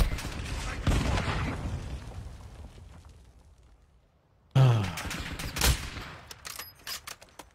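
Sniper gunfire in a first-person shooter video game, a few sharp distant shots and blasts separated by quieter stretches, with a voice and sigh in between.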